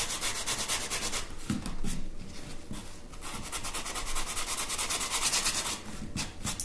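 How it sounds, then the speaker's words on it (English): Close, steady rasping of sandpaper rubbed back and forth over the edges of a wooden box, continuous with slight rhythmic strokes and no talking. "we're just sanding off the edges to make it completely fit on top of this antique box"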